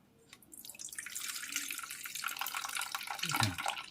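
Water poured off soaked moong dal, a quiet trickle and drip that builds gradually into a steady, close splashing flow with a few bright drops near the end.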